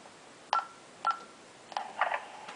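An Ademco 6160V voice remote keypad gives several short electronic button beeps, spaced about half a second apart, with two tones pressed close together near the end, in a quiet room.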